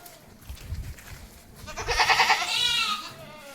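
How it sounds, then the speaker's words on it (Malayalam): A Malabari goat bleats close by, a loud wavering call followed by a second drawn-out bleat, with light background noise and no talking. "നല്ലൊരു മലബാറി ആട്"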